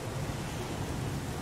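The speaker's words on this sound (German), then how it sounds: "Es regnet wie aus Eimern." Heavy downpour in the video game Heavy Rain, a dense, steady hiss of rain with low rumbling underneath, loud and unbroken throughout with no voices.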